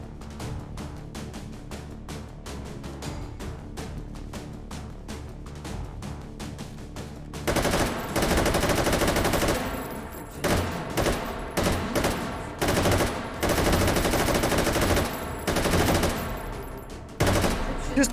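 Full-auto fire from an ugly polymer gun in the H3VR Take & Hold VR shooter: a loud, dense rattle of rapid shots bursting in halfway through and pounding on in long continuous strings, preceded by quieter rhythmic clicking and tapping.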